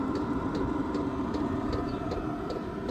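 The exhaust of a running fuel heater gives a faint, steady low hum with a soft regular ticking pulse, close by and unchanging, with no voices.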